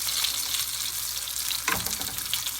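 Chile relleno sizzling steadily in hot oil, a continuous bright crackle, with a brief stir or spoon movement in the oil near the middle.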